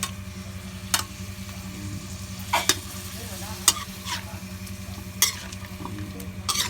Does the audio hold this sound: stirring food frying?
yes